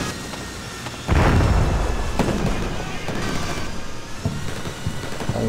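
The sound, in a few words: anti-personnel mines exploding under tanks, video game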